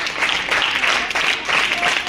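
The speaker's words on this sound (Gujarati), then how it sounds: "તેમનું પણ તાળીઓથી આપણે સ્વાગત કરીએ મિત્રો" Continuous applause from a crowd at an ashram school child-protection event welcomes a police sub-inspector, a dense wash of clapping with slight swells, and no speech over it.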